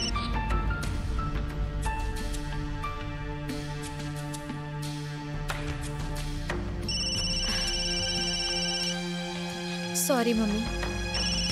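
A mobile phone ringtone plays as a bright, repeating electronic melody under a woman's speech, with scene music and background sounds mixed in.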